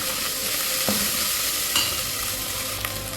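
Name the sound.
stirring a pot of rice with pigeon peas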